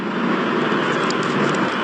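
A parrot mimics a car engine cranking and running, a steady broadband rumbling drone held for about two seconds with no talk over it.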